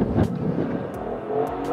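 A Maserati Levante SUV with a Ferrari-derived engine powers out of a corner, its exhaust note rising steadily under throttle, loud and close, with brief bursts of wind or tire noise.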